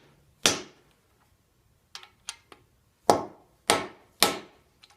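Hammer driving a freeze plug into an engine block, sharp metallic strikes in an uneven sequence: one hard blow, three lighter taps, then three heavy blows, close with quick decays and near silence between.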